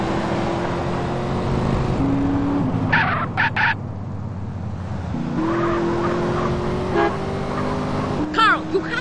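Car driving and skidding in the video game GTA San Andreas, with game engine tones, a burst of tire squeal and brief horn-like toots, all under ongoing character dialogue.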